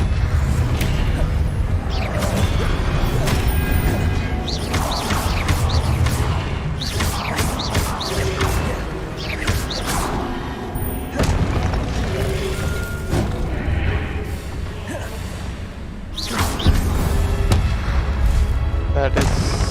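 An Expelliarmus spell is cast amid busy spell combat in the video game Hogwarts Legacy, with repeated booming blasts, sharp impacts and mechanical clatter, while a voice talks over the action.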